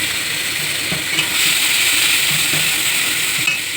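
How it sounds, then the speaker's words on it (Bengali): Chili and kasuri methi dropped into hot oil, a loud dense sizzle that swells slightly midway, with light stirring clicks close by. "তেলের মধ্যে আমি লঙ্কাটা আর কসুরি মেথিটা আমি দিয়ে দিলাম"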